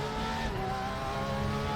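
A race car's engine drones steadily under throttle, a sustained tonal whine with rising harmonic bands and a brief tire hiss, moderately loud, with no voices.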